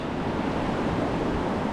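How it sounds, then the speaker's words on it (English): River rapids at Railroad Rapids near High Bridge in Ohiopyle in February, a steady, broad rush of churning whitewater heard from the shoreline, constant and unbroken. "This rapids, which is just upriver of High Bridge, is Railroad Rapids."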